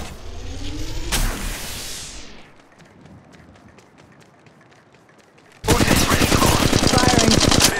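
Gunfire in Apex Legends Mobile: a loud burst opens, faint quick taps follow, then a sustained close rattle of rapid automatic fire takes over near the end.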